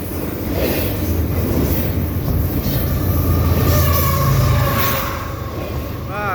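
A fast three-locomotive CP intermodal freight train roars past up close at Sainte-Anne-de-Bellevue station, a loud, steady rumbling rush that swells and holds for several seconds, with a faint metallic squeal near the end.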